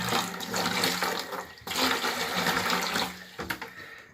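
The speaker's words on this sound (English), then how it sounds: "And then use some cold water, put some water in." Cold water gushes loudly and steadily into a plastic brewing bucket being cleaned with bleach for a Coopers Dark Ale homebrew, with a brief break partway through before the splashing flow resumes.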